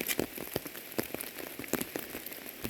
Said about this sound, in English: He's probably trying to hide out from the rain because it's really starting to come down.